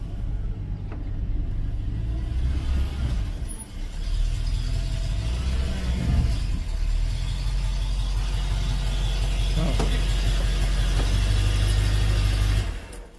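Car engine idling in a parking spot, a close, steady low rumble with a few brief squeaks and shifts before it suddenly cuts to silence at the very end when switched off.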